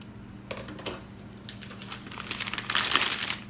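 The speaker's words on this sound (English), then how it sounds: "we'll cut the tip off the bag." Scissors snip through the tip of a plastic piping bag during cake decorating, a few soft crinkly cuts and plastic rustles that grow louder toward the end, close up with no talk.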